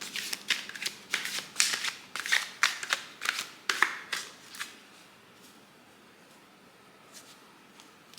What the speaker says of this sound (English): I kind of just shuffle wildly